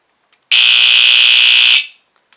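Vintage BRK 1769ACI smoke detector sounding its test alarm: a single loud, piercing continuous electronic tone lasting just over a second close to the microphone, then cutting off sharply with a brief decay.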